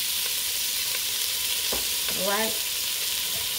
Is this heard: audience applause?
no